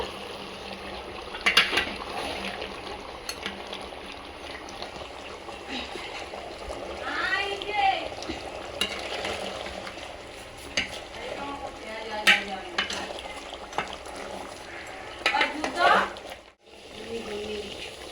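Mutton curry with water, cumin paste and ginger paste is stirred in a pot, giving a soft bubbling sizzle with several bursts of scraping and clattering, then a brief hush near the end.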